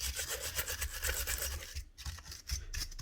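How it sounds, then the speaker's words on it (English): Brushing and rubbing old cement dust off the gear head of a Hikoki G23SC4 grinder, a steady close scrubbing that runs continuously with a brief pause near the middle. "taking off this gear head, so just clean off the old cement dust."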